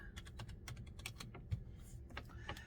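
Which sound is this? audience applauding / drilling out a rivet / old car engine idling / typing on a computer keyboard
typing on a computer keyboard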